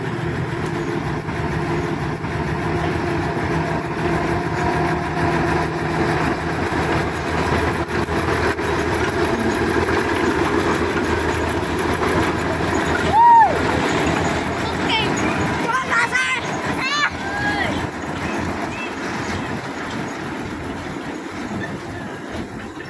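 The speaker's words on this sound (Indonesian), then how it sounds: "kereta lori melewati jalur yang berbelok ini" A small sugar cane lorry train at the Semboro sugar mill rumbles steadily along the track at night, wheels clattering and occasionally squealing on a sharp right curve, with an engine droning throughout.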